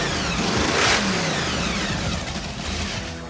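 A classic Ford car engine revs hard and loud close by, a throaty rising roar that peaks early and then eases back toward a rumbling idle.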